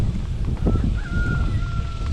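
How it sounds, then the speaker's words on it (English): A rooster crows faintly in the distance, a thin drawn-out call over a low rumble of wind and outdoor noise. "Hear a rooster crowing over there."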